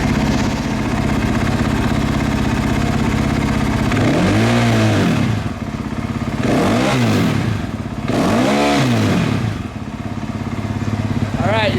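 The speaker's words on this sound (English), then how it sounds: "We rev it." A Honda CRF dirt bike engine idling with three sharp revs, each rising and falling in pitch, loud and close in a workshop setting.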